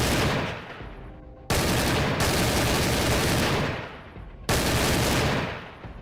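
Heavy gunfire in Doom: The Dark Ages, loud sustained blasts roaring in three long bursts that fade between shots, close and dominant with no talking.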